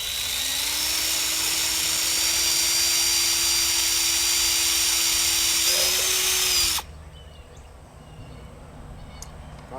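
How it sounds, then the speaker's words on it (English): A power drill whines steadily and loudly for several seconds while drilling out a hole, then cuts off abruptly, leaving a quiet room tone. "let me get drilling real quick"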